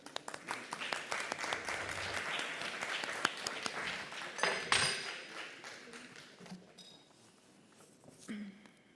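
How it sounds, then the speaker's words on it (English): An audience applauds an award presenter coming on stage at a marketing conference in Dubai, with scattered claps, some clinking and a voice heard under the clapping as it gradually thins out. "let's have a round of applause for him"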